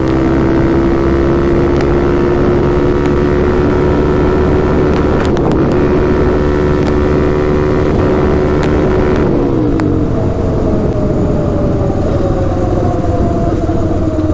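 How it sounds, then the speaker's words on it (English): A Suzuki LTZ400 quad's engine roars loud and close, climbing steadily in pitch to bang against the rev limiter, then dropping away, with wind buffeting the microphone throughout. "sure does hit that rev limiter quick"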